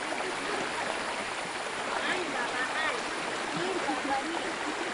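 Water pours steadily through a tank's overflow spillway, a broad, constant rushing that fills the scene without pause, with faint voices occasionally under it.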